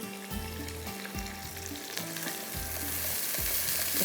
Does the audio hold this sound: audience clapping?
no